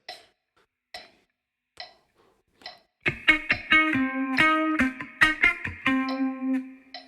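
An electric guitar plays bar 2 of a song: a few faint ticks first, then clean plucked notes and sustained tones with a loose rhythm.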